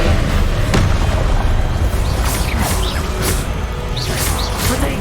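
Spell effects in the Hogwarts Legacy video game, including the Incendio fire spell, give a loud, steady roar of fiery bursts and booms with crackling high hiss. The layered blasts keep going throughout, with little speech.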